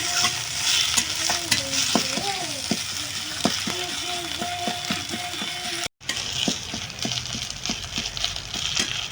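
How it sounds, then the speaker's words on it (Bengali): A mustard flower paste fries in oil in a pan while being stirred, with repeated spatula scrapes and taps over a soft sizzle and a brief break partway through. "2 থেকে 3 মিনিট ভালো করে নাড়াচাড়া করে নেবো।"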